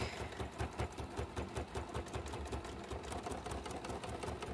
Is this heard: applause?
no